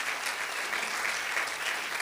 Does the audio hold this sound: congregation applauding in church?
yes